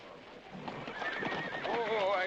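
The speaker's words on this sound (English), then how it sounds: "That Agamemnon's a good horse." A horse whinnies with a rising, wavering neigh near the end while hooves clip-clop in the background of a 1963 western film, fairly close and moderately loud.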